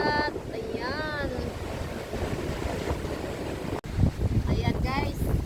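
Strong wind roars across the microphone beside a wide open sea under overcast skies, a constant blustery rush with surf beneath, while people talk intermittently over it.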